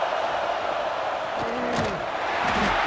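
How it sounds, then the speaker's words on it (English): A football stadium crowd at a Penn State vs LSU game roars as a broad, continuous wash of noise, with a few whistle-like tones and thumps rising through it and no clear talking. "Listen to this crowd just shaking the girders of this place"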